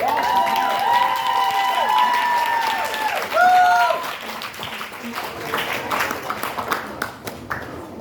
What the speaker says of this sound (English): We're going to give a round of applause to the mother and father of the bride.